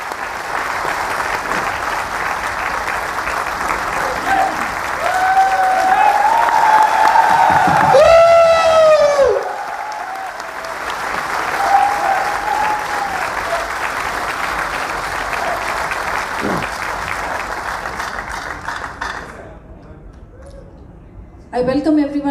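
A large meeting audience breaks into sustained applause to welcome a speaker, loud and steady with some cheering mixed in, tapering off toward the end.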